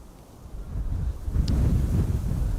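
Strong wind blowing across Amsterdam Schiphol Airport, a steady low rumbling buffet on the microphone that swells louder partway through, with no talk.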